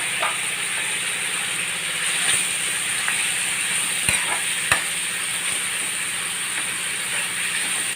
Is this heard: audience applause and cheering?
no